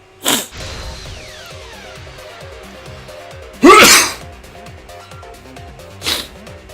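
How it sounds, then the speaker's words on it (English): Three sharp sneezes in the video game Danganronpa V3, one at the start, a louder one in the middle and a softer one near the end, over a quiet musical background. "I sneeze when I get excited."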